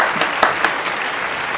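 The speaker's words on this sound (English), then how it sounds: "Let's give her a round of applause, everybody." Audience applauding at a comedy program honoring a guest, a steady wash of clapping with a couple of louder claps standing out, close and continuous through the moment.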